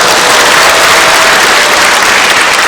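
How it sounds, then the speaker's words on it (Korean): Loud, close applause at a Saemaul women's volunteer award ceremony, a dense, continuous burst of clapping filling under three seconds with no talking. "외조상 박수 한번 쳐주세요 지금."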